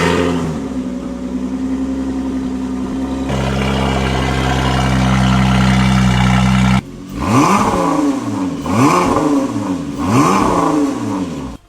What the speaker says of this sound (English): we're gonna do a cold start with the new Miltech full exhaust on it and some intake work